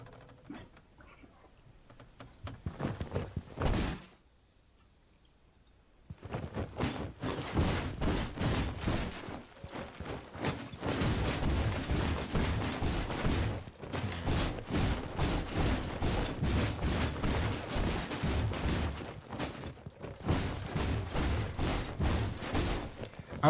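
Loud, rapid clattering footsteps from a character moving in the video game The Dwarves, a dense patter of impacts that stops briefly, then resumes and runs on steadily, with a thin steady tone above it.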